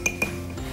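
Metal spoon clinking against dishes while a homemade salt-based skin toner is prepared, two quick, light clinks close by, then quiet room tone.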